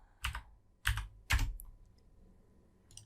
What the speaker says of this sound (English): we're going to go to where it says label, left click, and just type in color